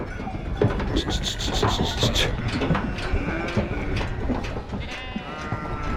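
Sheep bleat repeatedly amid a busy farmyard clatter at a pasture mating of rams and ewes, with several overlapping calls rising over steady rustling and shuffling noise.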